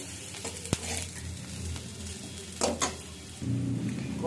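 Onions fry slowly in a pan with a soft, steady sizzle, broken by a few sharp clinks and scrapes of a utensil stirring against the metal.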